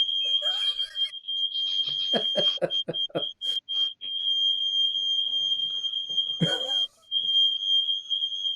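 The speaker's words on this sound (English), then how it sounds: "there'll just be a short break while Jay sorts his alarm out" Smoke alarm going off indoors with a sustained piercing electronic tone, briefly broken by a few rapid beeps, while people talk over it at intervals.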